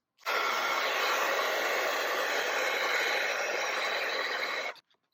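A heat tool blows a steady, loud, broadband whoosh while warming gold metallic embossing powder over modeling paste on a stenciled tag, running continuously for about four and a half seconds and then switching off abruptly.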